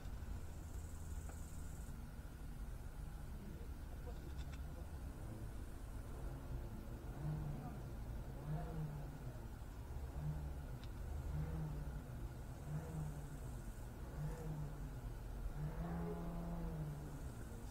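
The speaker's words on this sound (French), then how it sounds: "l'autre il est au rupteur avec sa bagnole" A car engine revving hard against its rev limiter somewhere in the distance, with repeated bursts of rising and bouncing revs heard faintly over constant insect chirping outdoors.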